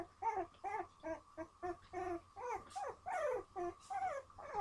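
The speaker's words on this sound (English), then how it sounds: "there's 10 very loud puppies that like to sing and talk." Many puppies, ten of them, yip, whimper and howl in a constant overlapping chorus of short, rising and falling cries, close by and fairly loud, with no one talking.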